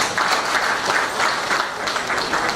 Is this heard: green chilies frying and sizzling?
no